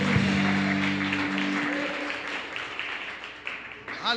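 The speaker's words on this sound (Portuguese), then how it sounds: "Você pode aplaudir Jesus nessa noite?" A church congregation at a Sunday service claps and applauds together, a dense continuous wash of hand claps mixed with voices, held steadily for several seconds.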